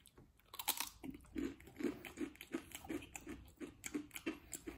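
Crisp snacks made from seaweed and vegetables are being crunched and chewed close to the mic, giving a steady series of brittle bites and munching with no talk.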